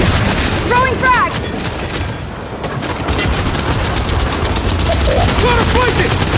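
Loud, dense gunfire and explosive booms from the Gears 5 campaign on Xbox Series S, a frag grenade among them, pound continuously while game voices shout over the fight.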